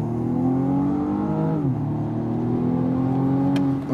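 A 2019 BMW M135i xDrive (F40) in Sport mode accelerates hard from a stop, its engine note rising steadily, dipping briefly at a gear change, then climbing again, loud and close throughout with no talking.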